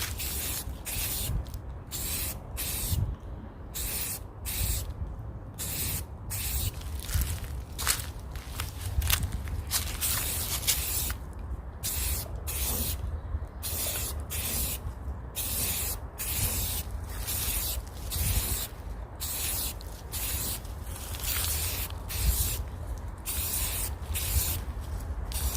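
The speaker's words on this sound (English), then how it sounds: "So I'm going to go ahead and spray the rest of these" Aerosol spray paint hisses in repeated short bursts while kitchen surfaces get painted from a few inches away, a steady close spraying with brief gaps between passes and no talking.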